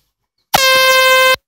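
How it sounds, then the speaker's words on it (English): A single very loud air horn blast, one steady sustained tone lasting under a second, starting and stopping abruptly in otherwise quiet surroundings. "this horn is super loud"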